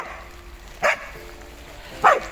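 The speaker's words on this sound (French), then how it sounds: "un bruit de fond, il y a la chienne qui joue" A female dog at play gives two short, sharp barks about a second apart, close by over a quiet rural background on a rainy morning.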